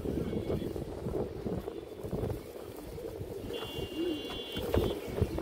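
Low, murmuring coos from Indian highflyer pigeons roll on under scattered clicks and handling noises, and a thin high tone sounds briefly in the background.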